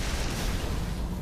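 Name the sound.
sci-fi spaceship explosions under attack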